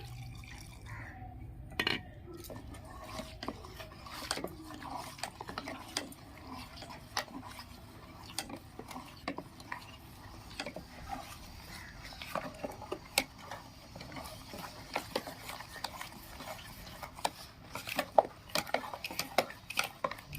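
A spoon stirs a thin flour-and-milk batter for patishapta in a bowl, giving light, irregular clinks and soft wet scraping, fairly quiet and close, with a few sharper taps against the bowl's side.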